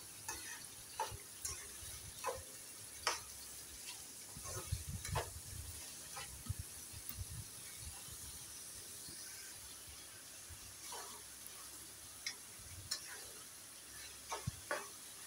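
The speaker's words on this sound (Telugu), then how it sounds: "1 నిమిషం బాగా కలుపుకోండి." Ginger garlic paste being stirred in a frying pan for carrot and capsicum fry, with a soft steady sizzle under repeated scraping strokes of the spoon, close and fairly quiet, no talking.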